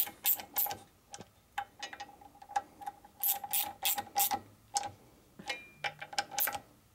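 Bolts being tightened on a 1941 Harley-Davidson WLD 45 flathead stroker motor during a build, with a rapid series of sharp metallic ratchet clicks in uneven bursts, close and fairly loud, no talking.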